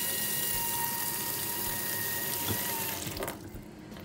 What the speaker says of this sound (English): So what I do first is I run some hot water